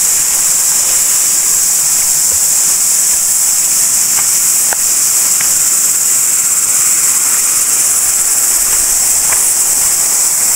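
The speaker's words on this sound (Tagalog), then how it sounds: "maririnig na natin yung agos ng falls mga kaworks." Kitekite Falls at Piha, New Zealand roars with loud, continuous rushing water that stays steady throughout, with no voices.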